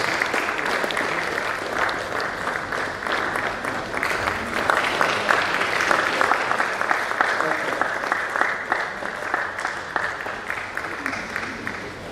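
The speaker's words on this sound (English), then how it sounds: "Please, let's keep clapping until she gets to our seat." Sustained audience applause at a medical college scientific conference plenary session, dense steady clapping from a full hall lasting throughout, fairly close and loud.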